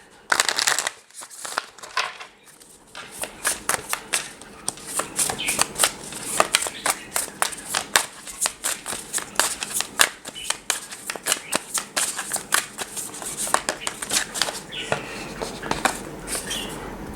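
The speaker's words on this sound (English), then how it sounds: "let's pull some Quantum Oracle cards and see what we got here" Quantum Oracle tarot-style cards are shuffled by hand, a long run of dense crisp flicks and riffling slaps at a quick irregular pace, close and clear, after a brief pause at the start.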